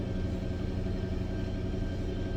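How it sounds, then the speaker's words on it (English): Exhaust of a 2018 Maserati GranTurismo in sport mode, a steady low rumble at idle that stays even and close throughout, with no one talking. "you have a sport button that you can push, and that kind of opens up the, I guess, the exhaust"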